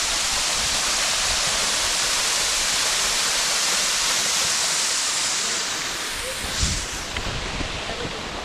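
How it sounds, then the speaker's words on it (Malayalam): Fairy Falls, a small waterfall in Kodaikanal, roars as a dense, steady rush of falling water heard up close, easing slightly toward the end. "ഫാൾസ് ചെറിയൊരു വെള്ളച്ചാട്ടം."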